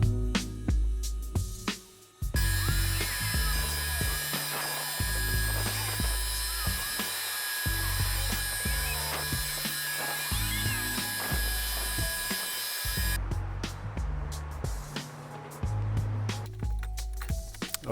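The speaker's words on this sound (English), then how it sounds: "now I'm just going to continue cutting all 3 panels into 1-inch strips" Power saw ripping wood panels into 1-inch strips for an end-grain board, a long loud continuous cutting whine broken by short pauses and rhythmic thumps of boards being handled.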